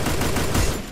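MP40 submachine gun fire in the video game Free Fire, a brief, loud burst of rapid automatic shots packed closely together.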